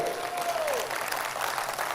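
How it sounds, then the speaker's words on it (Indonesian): Audience applause at a motivational business team event in Jakarta, a steady wash of clapping for about two seconds at moderate level, with a brief sustained tone near the start. "Untuk itu saya kasih tepuk tangan untuk Pak Aji"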